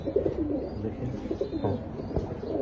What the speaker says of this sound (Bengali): দর্শক এখানে দেখতেছেন একজন রেড বার ধামাসিন কবুতর